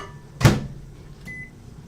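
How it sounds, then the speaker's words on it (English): Household microwave oven being started: a loud close thud from the door shutting, then a single short electronic beep, with a faint hum underneath. "Every time I turn the microwave on"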